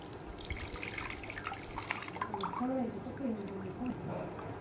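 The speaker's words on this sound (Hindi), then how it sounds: "अब इसमें हम पानी ऐड करेंगे" Water poured into finely ground sardai (ghota badam) paste in a home kitchen, a steady running splash under a person speaking throughout.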